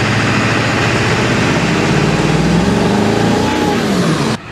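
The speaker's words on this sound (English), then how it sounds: "that took all that time to get the engine to rev because of Stiction" A Ford Powerstroke diesel truck engine suffering from stiction revs up sluggishly with the pedal floored, its loud, close drone climbing slowly in pitch over several seconds before cutting off abruptly.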